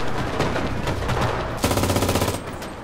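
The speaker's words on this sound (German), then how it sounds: "das hat ein Maschinengewehr" Rapid machine gun fire in the video game Enlisted, a loud, dense stream of rattling shots lasting nearly three seconds, with a sharper burst toward the end.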